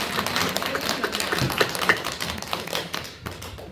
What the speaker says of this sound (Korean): 우리 그런 의미에서 한 번 더 격려의 박수 드리겠습니다.